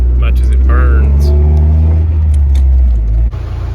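A 1989 Ford Ranger pickup with 300,000 miles, an oil-burning engine, idles and runs with a steady low rumble that stays loud and close, then drops suddenly near the end; a person speaks over the engine.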